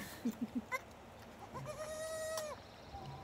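Several short, high bleats from young goats come in quick succession, then a longer wavering bleat rises over a steady outdoor background hum.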